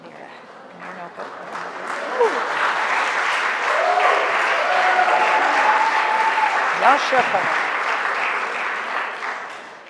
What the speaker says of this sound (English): we usually don't clap in a synagogue